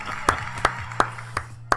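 Five sharp, evenly spaced claps from a soundboard audience-clapping effect, each a crisp isolated hit over a low steady hum, sparse rather than a full applause crowd.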